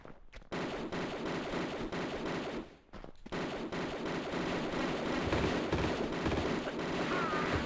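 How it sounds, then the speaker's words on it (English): Automatic pistols firing in Tomb Raider, using the RoboCop gun sound, a rapid run of repeated shots over game noise with a brief break just before the three-second mark. "the sound effect that's used for the guns is actually the sound that they're using for the automatic pistols"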